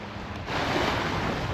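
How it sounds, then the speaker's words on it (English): Waves and surf at the mouth of the River Teign where it meets the sea at Shaldon, a brief steady wash of water with some wind buffeting, swelling louder after a quieter start. "So this is the mouth of the River Teign"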